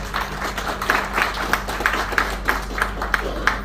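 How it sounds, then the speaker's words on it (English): An audience at a retired station masters' association meeting claps for Mohiuddin, a sparse, moderately near round of separate hand claps over a steady hum. "Good round of applause for Mohiuddin."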